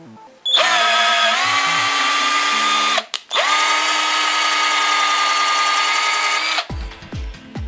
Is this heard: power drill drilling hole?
yes